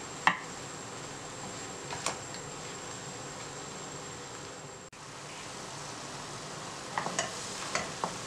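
Apples cooking in a pan over medium heat give a faint, steady low sizzle with a few soft utensil clicks, quiet and close with no voices.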